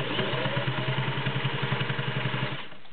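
An all-metal, gear-driven Singer Touch & Sew 603E sewing machine runs at a steady fast pulse while stitching through six layers of denim, a close mechanical chatter that slows and fades just before the end.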